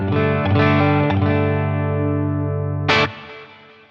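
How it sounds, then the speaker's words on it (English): Guitar played through a Boss Katana amp with an ambient delay effect set to several repeats, sustained chords ringing with a sharp strum near the end, loud and alone. "now we get this nice sort of ambient delay"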